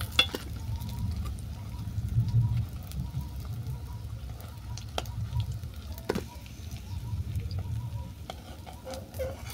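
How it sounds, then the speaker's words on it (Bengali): Chicken skin pakoras frying in hot oil, a steady low sizzle and bubbling that runs throughout with occasional sharper crackles and stirring clinks, close and moderately loud, no voices. "তবে বাকি যেগুলো আছে সেগুলো ভেজে নিয়েই তোমাদেরকে দেখাবো।"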